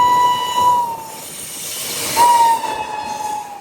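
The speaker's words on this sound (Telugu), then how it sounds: "పక్క ప్లాట్ఫామ్ లోకి ఇప్పుడే ట్రైన్ వస్తుంది." A train pulls into the adjacent platform at Madurai Junction, hauled by the locomotive for the Madurai to Chandigarh superfast express, with two sustained horn blasts over a steady rumble and hiss.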